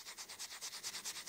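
Rapid back-and-forth scrubbing of a pencil eraser on paper, about ten even strokes in quick rhythm, close and crisp with no voices.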